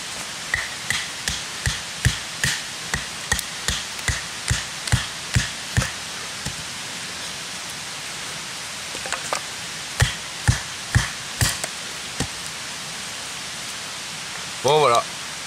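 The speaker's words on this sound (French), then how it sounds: "bâtonnage à plat avec le gerbère" A Gerber LMF 2 knife batons wood: a rapid run of sharp, evenly spaced knocks, then a pause and a second, sparser burst of strikes, with a voice speaking briefly at the very end.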